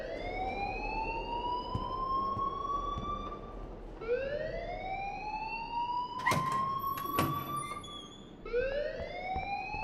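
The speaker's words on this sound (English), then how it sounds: "please turn off that alarm since that's your job" An alarm in the video game Life Is Strange wails in repeated rising siren sweeps, roughly every four seconds, over a steady background noise bed with a couple of sharp clicks.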